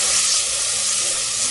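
Chopped garlic browning in a pan, with a continuous bright, loud sizzle that holds steady throughout.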